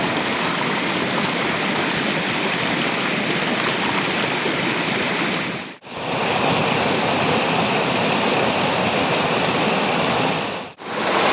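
Foaming water pours down Choriyankunnu waterfall in a loud, steady, close-up roar that continues without pause except for two momentary dropouts.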